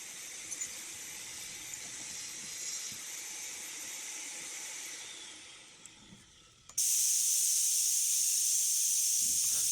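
A compressed-air brake bleeder tool fitted over the rear caliper bleed valve of a Renault Trafic-type van hisses steadily up close, fades briefly, then bursts back in as a louder, sharper continuous hiss.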